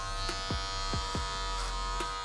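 Electric hair clippers fitted with a 5 guard buzz steadily through hair during a self-fade trim, a close, continuous motor drone with a few brief sweeping strokes through it, no talking.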